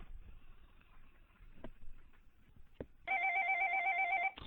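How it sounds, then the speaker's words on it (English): A telephone rings with a loud electronic warble that starts abruptly after faint background rustles and clicks, then holds steady for over a second. "sorry for that phone interruption"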